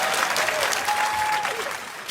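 An audience at a stand-up comedy show, made up mostly of women, gives brief applause. The close, steady clapping carries a faint whistle-like tone and fades slightly at the end.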